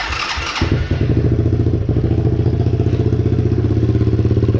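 A motorcycle with a loose, free-flowing exhaust, the pipe popped out and replaced by a makeshift tube in a cold garage, catches after a brief crank and settles into a loud, close, steady rumbling idle with no talking.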